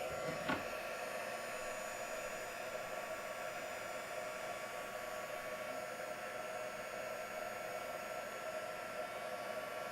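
An electric heat tool blows steadily from below onto embossing powder on a craft card, a continuous close, even whooshing hum with a faint tonal whine and no talking.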